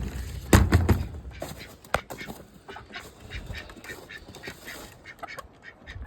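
Ducks on a small farm kept alongside chickens quack in a busy, irregular chorus close by, with a burst of loud calls early on and steadier chatter after, while someone talks over them.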